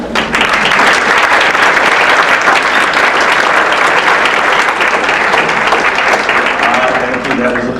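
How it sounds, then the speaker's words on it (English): Audience at a National Philanthropy Day 2013 event breaks into sustained, loud applause, a dense wash of many hands clapping continuously for the full stretch with no pause. "That was applause number one."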